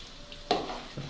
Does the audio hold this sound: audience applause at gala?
no